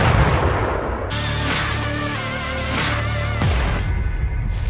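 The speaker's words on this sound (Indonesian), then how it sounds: "Выстрел!" MT-12 Rapira anti-tank gun firing in combat near the left bank of the Dnieper in Kherson, a heavy booming blast followed by a long rumbling echo and roar that fades out.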